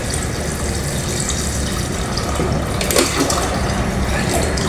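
Water pours steadily into a cooking pot being readied for boiling beans, a continuous rushing, splashing stream that holds strong throughout and swells slightly near the end.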